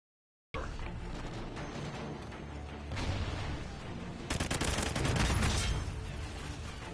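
Heavy gunfire and explosive bursts from an online shooter game crackle in sustained volleys after a short silence, growing louder and denser midway, with no voices.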